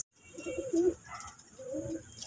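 A pigeon, a racing-club bird, coos close by in two soft, throaty phrases separated by a brief pause, with a thin high hiss in the background.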